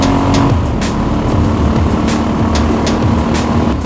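A dual sport motorcycle engine roars at full throttle at high elevation, loud and close and steady, with wind noise and pulsing shifts in pitch running throughout.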